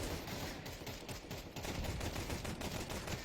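Gunfire in the video game Counter-Strike, heard as rapid bursts of shots firing in a dense, continuous stream throughout, moderately loud with no speech.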